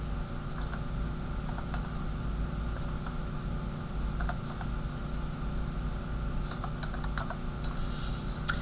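Steady keyboard typing with light, irregular key clicks over a constant background hum, fairly quiet and close.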